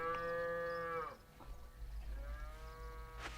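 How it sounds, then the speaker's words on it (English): Cows low in long, drawn-out moos, two bellows separated by a short pause, loud and fairly close in an open rural setting. "Look at those cows."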